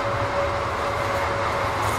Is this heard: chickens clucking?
no